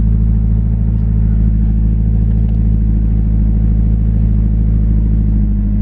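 A turbocharged Nissan 200SX B14 idles high while warming up, a loud, steady, low rumbling engine drone with a faint clattery texture and no voices.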